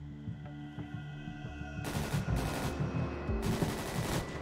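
Video game gunfire in GTA RP: a few scattered shots give way to rapid, loud automatic bursts, close and sharp, with brief pauses between volleys and no talk over them.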